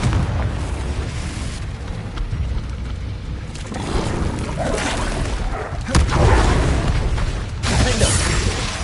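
Confringo spell blasts in Hogwarts Legacy combat: several deep booming explosions burst out in quick succession over a rumbling, crackling background, loud and close, with occasional spell-casting voices.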